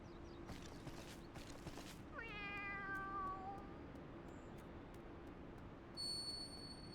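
A kitten meows in Final Fantasy XIV Heavensward: one clear, drawn-out meow that falls in pitch, set against steady game ambience and quieter tones.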